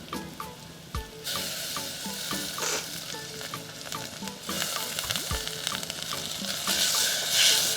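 Fish pieces going into a hot pan with cumin paste and mango, bursting into a loud, steady sizzle with stirring scrapes and clatter throughout, close up and without voices.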